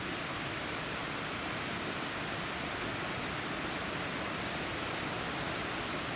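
Water rushes steadily down a fork of Sawmill Creek in a canyon, a loud, continuous broadband roar with no letup.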